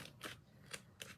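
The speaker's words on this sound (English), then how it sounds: "And I'm just cutting this away, y'all." Scissors snip through craft material, three crisp, close cuts spaced a fraction of a second apart with quiet pauses between.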